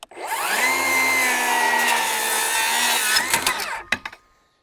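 A Milwaukee rear handle circular saw spins up with a rising whine, holds a loud steady howl while cutting through wood, then winds down with a few clunks and rattles at the end, with no talking.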